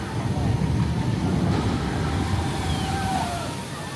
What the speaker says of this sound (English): So that was the Jurassic World splashdown at regular speed, 30 frames per second.